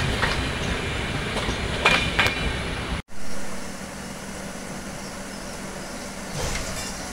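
A train passes near Mantralayam railway station, a steady close rumble of rail cars with a brief dropout partway through and no talking.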